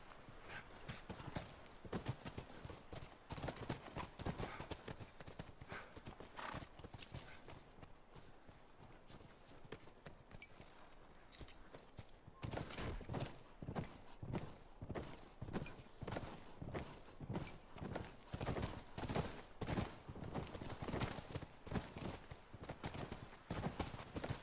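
Steady clip-clop of horse hooves throughout in The Last of Us Remastered, several animals walking at a brisk rhythm, close and continuous, with occasional faint whinnies mixed in.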